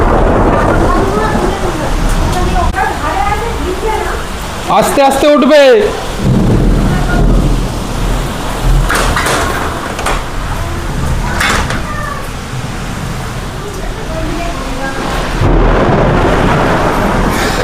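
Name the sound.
heavy rain with thunderstorm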